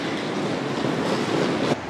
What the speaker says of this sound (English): Oh, here is the tram.